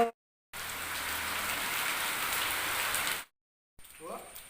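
Steady rain patters down as a broad hiss, cutting in after a brief silence and stopping abruptly, followed by a short faint snippet.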